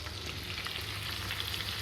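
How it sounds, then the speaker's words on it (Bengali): Chicken pieces marinated in ginger-garlic paste fry in oil, making a soft, steady hiss with light crackling that holds evenly, fairly quiet and with no speech over it. "সেই তেলেই ম্যারিনেট করে রাখা আদা রসুন বাটা দিয়ে ম্যারিনেট করে রাখা চিকেনগুলো ভেজে নিচ্ছি"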